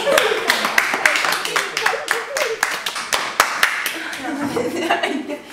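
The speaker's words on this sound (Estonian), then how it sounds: "Aplaus." An audience claps at a school graduating-class parody show, with irregular, fairly close hand claps that rise and fall over several seconds, mixed with faint chuckles and voices.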